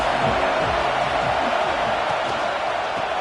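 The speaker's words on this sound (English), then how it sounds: "This crowd trying to make life miserable for this offense." Stadium crowd noise from a football video game, a steady, loud roar of many voices filling the whole stretch with a constant wash and no breaks.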